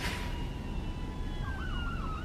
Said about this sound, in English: Where's the siren coming from?